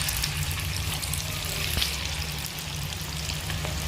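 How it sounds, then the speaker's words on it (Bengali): Coated chicken pieces fry in hot oil, a steady dense sizzle and crackle running throughout with a brief clink partway through and no talking. "এবার এক এক করে মা চিকেনগুলোকে ভেজে নেবে।"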